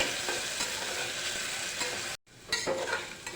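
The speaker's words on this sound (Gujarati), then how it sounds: "બરાબર સતવાઈ જાય ત્યાં સુધી આપણે મિક્સ કરતા રહેવાનું છે તેને તેલમાં બરાબર સાતોઈ લેવાના છે બટેકાને" Diced potatoes fry in hot oil in a pan while being stirred, giving a steady close sizzle with soft scraping strokes, broken by a brief silent gap before the frying resumes.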